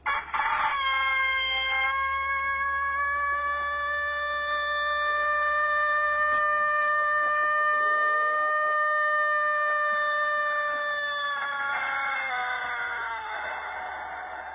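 A rooster crows in a long, loud, sustained call lasting most of the stretch, with a few shorter broken notes before it and ragged clucking bursts near the end, up close with no talk.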